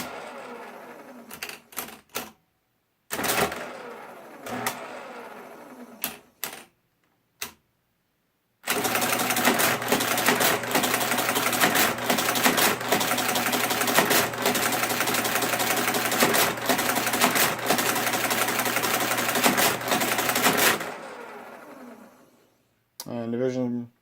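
A Marchant mechanical desk calculator running a division problem, a dense continuous mechanical whirring and rapid clatter for about twelve seconds, preceded by scattered lever clicks and clunks and ending with a few carriage taps, close and fairly loud.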